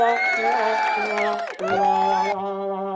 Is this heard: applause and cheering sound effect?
yes